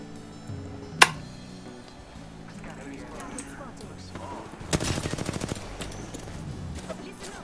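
An R301 rifle fired in a video game shooter: one sharp loud shot early, then a rapid burst of automatic fire a few seconds later, amid game music and ambient noise.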